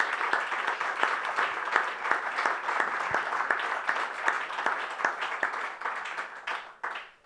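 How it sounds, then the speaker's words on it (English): An audience applauds a whistleblower at a public talk, a sustained round of close, crisp clapping with a steady texture that fades out over the last second. "So please give him a round of applause."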